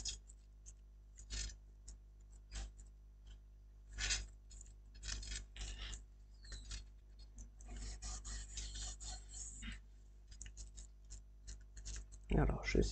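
Kraft paper being glued and pressed onto a handmade folding card, giving soft, close rubbing and papery scraping strokes in irregular bursts, busiest toward the middle, with a sharper crinkle near the end.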